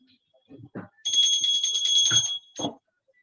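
A small worship bell rung during a Hindu offering, a bright rapid continuous ringing for about a second and a half, with brief talk and household sounds just before and after.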